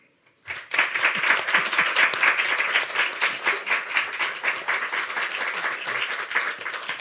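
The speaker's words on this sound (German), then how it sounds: "Applaus bitte" A talk audience greets a guest with steady applause that starts abruptly after a brief silence, then continues as a dense, even mass of clapping for several seconds, fairly close and unaccompanied by voices.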